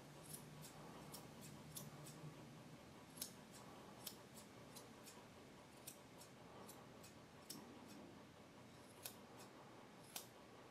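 Scissors snipping dog fur while grooming a Maltipoo at home, a steady run of quiet, sharp close-up clicks spread over several seconds, with no talking.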